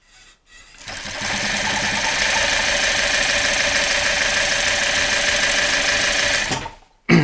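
A sewing machine runs steadily for about six seconds while stitching fabric for a window valance pocket, its fast mechanical whir loud and close, starting and stopping abruptly.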